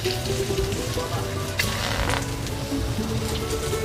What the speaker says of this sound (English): Very hot pan, some garlic.